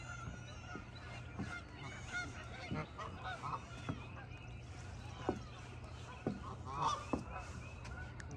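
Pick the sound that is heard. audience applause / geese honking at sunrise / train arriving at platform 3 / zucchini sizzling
geese honking at sunrise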